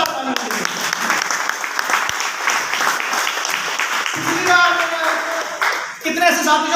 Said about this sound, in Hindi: मैं चाहूंगा एक बार जोरदार ताली बजाइए